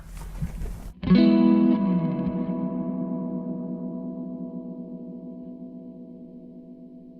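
A guitar chord rings out through a Zander Circuitry Exosphere reverb pedal's washy effect and decays slowly, its long tail gently wavering with slow, subtle modulation.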